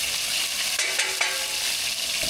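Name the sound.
fish and onions stir-frying in hot oil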